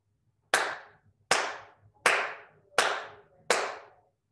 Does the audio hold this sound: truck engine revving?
no